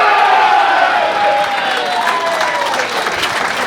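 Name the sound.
crowd of Victorian supporters cheering at pool match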